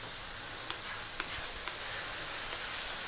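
Tomatoes and fresh green chili fry in a hot pan for a fish curry, giving a steady close sizzle with a few light clicks of stirring.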